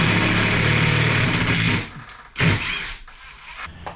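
A screw driven up into a garage ceiling joist with a power drill, a loud steady motor whir for about two seconds that stops, followed by a brief burst and fainter mechanical clicks.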